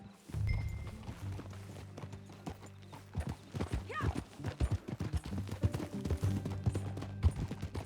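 Horse hooves clip-clopping at a steady walk in Red Dead Redemption 2, a continuous soft rhythmic trot with a brief whinny, faint and close, with a low background hum.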